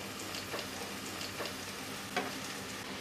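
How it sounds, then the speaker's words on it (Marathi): Chopped tomatoes sauté with softened onion in a pan for rajma rice, giving a steady, close sizzle with a few light stirring clicks and no voices. "ही सुद्धा आपल्याला परतून घ्यायचे आहेत"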